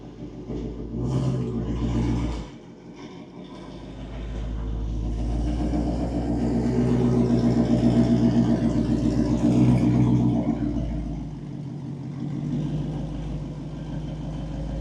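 A Shelby GT350R rumbles at low speed as it backs into a garage, its engine idling and swelling slightly with throttle, close and steady throughout.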